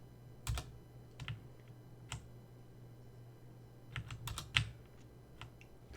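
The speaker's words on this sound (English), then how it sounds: "I'm just typing up Reddit posts." Someone types on a computer keyboard in irregular bursts of sharp clicks, sparse at first and then a quicker cluster, close-up against a steady low electrical hum.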